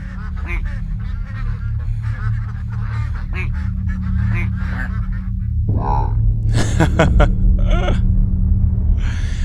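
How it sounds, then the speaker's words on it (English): Many ducks honk and quack in the video game A Story of Questions, a steady low hum underneath with loud bursts of honking toward the end and a person speaking briefly over it. "A lot of ducks."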